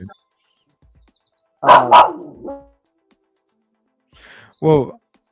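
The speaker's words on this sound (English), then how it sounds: "my dog's barking" A dog barks a few times indoors, two quick sharp barks followed later by another, with quiet pauses between.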